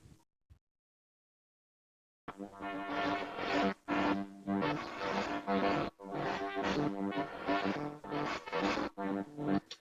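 After a brief silence, a buzzy modular synthesizer patch using oscillator sync plays a series of bright, harmonically rich notes with sharp, tearing timbre, pausing briefly between phrases.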